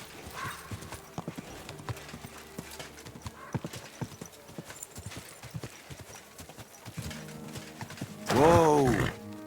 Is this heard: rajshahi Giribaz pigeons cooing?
no